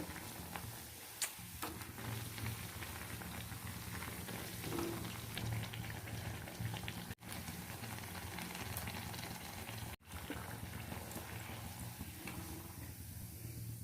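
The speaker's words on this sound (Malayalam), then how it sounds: "ഇതുപോലെ തന്നെ ബാക്കിയുള്ളതും വറുത്ത് കോരിയെടുക്കാം." Raw banana bajji fritters deep-fry in hot oil over a medium flame, crackling and bubbling in a continuous dense patter like rain, heard up close with no talking.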